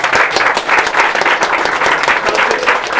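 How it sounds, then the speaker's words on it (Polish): Dense, steady clapping from a crowd at a tabletop gaming store championship, applauding the judges, continuous and fairly loud throughout with no pauses. "Także brawa dla sędziów."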